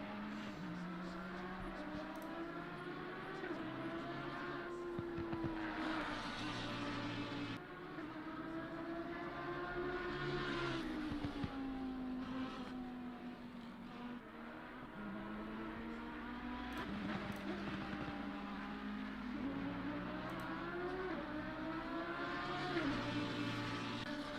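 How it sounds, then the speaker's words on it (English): A Lamborghini race car at Snetterton circuit passing the start-finish line, its engine a steady, sustained drone with rising and falling pitch as it shifts through gears, heard from a moderate distance and fairly quiet throughout. "That Lamborghini sounding and looking absolutely great across the start-finish line."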